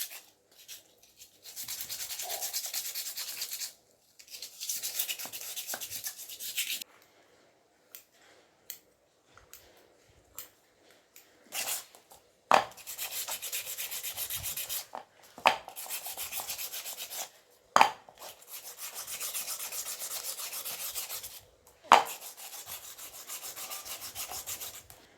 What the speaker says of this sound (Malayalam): ഇനി നമുക്ക് ഈ ചിരട്ടകൾ നല്ലോണം ക്ലീൻ ആക്കണം.